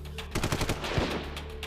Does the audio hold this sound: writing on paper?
no